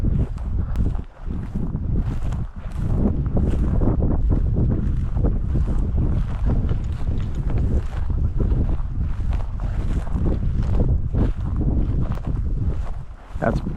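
Strong wind buffeting the microphone across an open upland field in Montana, a steady loud roar with gusty surges that never lets up.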